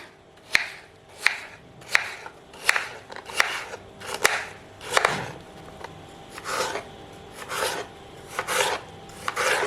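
A knife slices through vegetables in a series of crisp, evenly spaced cuts, about a dozen strokes close up, with no speech.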